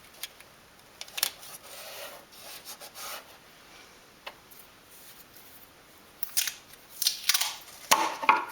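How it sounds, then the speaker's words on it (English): Small wooden dolls house piece being trimmed, giving soft scraping and cutting strokes in scattered bursts that grow busier toward the end, close and fairly quiet. "Just needs a little bit of trimming, and then glue that piece into place."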